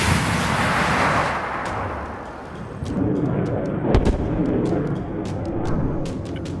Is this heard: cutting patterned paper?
no